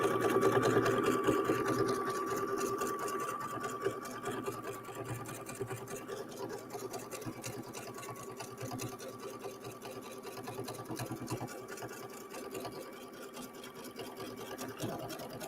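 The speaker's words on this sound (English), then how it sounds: "Now I'm actually embroidering through about 3 layers of denim there, plus the batting and the backing." Embroidery machine stitching through three layers of denim plus batting and backing, a steady close rapid mechanical whir with fast needle rhythm running continuously throughout.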